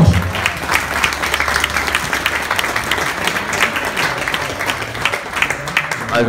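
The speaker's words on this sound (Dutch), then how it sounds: "Nou, applaus." A crowd claps steadily at an outdoor unveiling honoring Dutch footballers, a sustained wash of applause with some voices and murmurs mixed in, continuing at an even level throughout.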